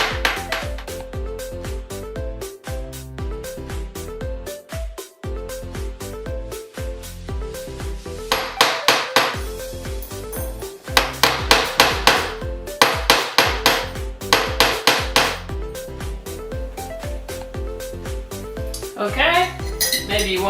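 A silversmith hammers a silver bracelet on a steel plate, producing bright, ringing metallic strikes in quick repeated bursts, close and loud, with clinking handling noises between the rounds of blows.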